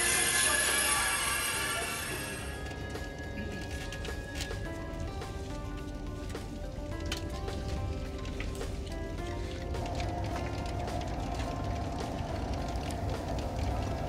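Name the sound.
French high-speed passenger train running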